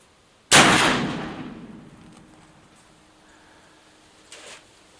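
A single loud, close Lyman GPR muzzleloading rifle shot with a long, rolling decay, followed by quiet and a faint brief noise near the end.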